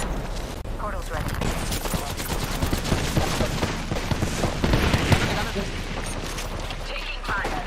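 Video game gunfire crackles in dense, rapid bursts throughout, a loud sustained fusillade with heavy booms and shifting intensity.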